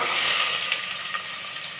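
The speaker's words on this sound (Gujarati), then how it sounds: "આપણો વઘાર થઈ ગયો છે હવે બટેટાને વઘારી લઈશું" Potatoes dropped into hot oil tempered with mustard seeds and cumin, giving a loud, steady, close hiss of frying that fades slightly over a couple of seconds, with no talking.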